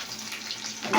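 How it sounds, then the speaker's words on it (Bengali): Chopped onion hits hot oil in a pan, giving a steady close hiss of frying that swells louder near the end, with no voices. "তেলটা গরম হয়ে গেছে। এবার পেঁয়াজ যে কাটা ছিল পেঁয়াজটা দিয়ে দিলাম।"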